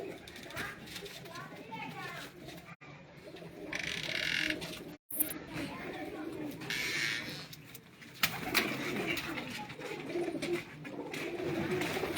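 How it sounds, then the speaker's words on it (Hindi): Pigeons for sale at a pigeon club in Mianwali coo softly in the background, while someone talks over them throughout and children are heard nearby. "ये कबूतर आपके सामने, ये सब फॉर सेल हैं दोस्तों"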